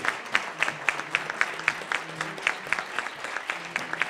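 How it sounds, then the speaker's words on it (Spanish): An audience claps for the speakers closing a debate on ethics and rights, with individual claps standing out rhythmically within steady applause that carries on throughout. "les pido un gran aplauso para despedir a nuestros ponentes"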